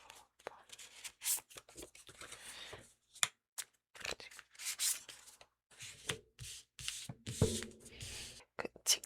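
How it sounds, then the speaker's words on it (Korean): Tarot cards rub, slide and flick in a series of close, soft shuffling bursts separated by brief pauses, with a few sharper snaps as cards are drawn. "카드를 한번 뽑아보도록 할게요"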